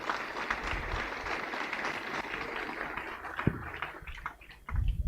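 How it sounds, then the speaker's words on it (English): Audience applause at a school speech and prize-giving day, a steady wash of many hands clapping in a large gathering, continuing for several seconds, with a louder burst near the end. "Can you please clap for that?"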